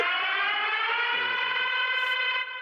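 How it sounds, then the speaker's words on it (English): A played siren sound effect wails as one loud, sustained, rising tone that holds steady and then cuts off abruptly near the end, with nothing else behind it. "Let me hit the siren here."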